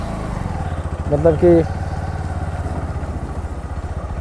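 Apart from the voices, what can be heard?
Bajaj Pulsar NS 125 motorcycle engine noise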